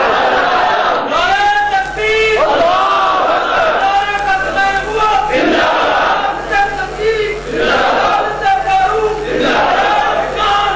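A large crowd at a religious rally chants slogans in loud, repeated bursts of voices shouting together, with short pauses and crowd chatter between the chants.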